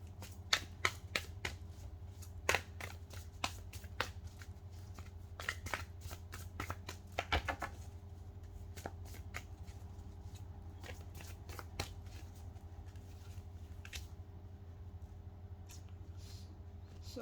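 Tarot card decks being shuffled up close, a long run of crisp riffling bursts and taps in irregular rhythm over a quiet room hum, with no talking.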